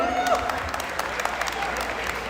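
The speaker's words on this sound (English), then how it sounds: "One more huge round of applause, guys." Audience applause following a dance performance at an anniversary cultural event, a dense burst of clapping with a few sharp claps and faint crowd noise, fairly loud and close.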